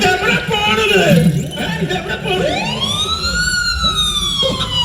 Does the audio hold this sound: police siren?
yes